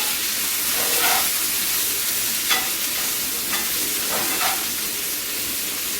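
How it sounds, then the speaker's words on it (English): Vegetables sizzle on high heat in a cast iron skillet, a steady loud frying hiss with a few brief scraping stirs cutting through, no voices. "with the heat up this high, and also with using a cast iron skillet, please make sure to frequently stir your vegetables"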